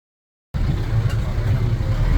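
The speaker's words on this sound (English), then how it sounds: "So we are going in a bus. This is a forest department bus." A forest department bus rolling toward Silent Valley National Park, its engine a steady low rumble with road noise starting abruptly and holding constant, heard from inside the vehicle.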